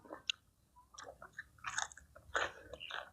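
Crunchy chewing and biting of crispy grilled quail, close and wet with irregular crackling bites and brief pauses, no talking.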